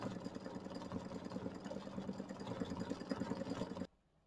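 Embroidery machine stitching a pink Dresden petal quilt block, a steady close mechanical whirr with fast repetitive needle clatter that runs continuously, then cuts off abruptly near the end.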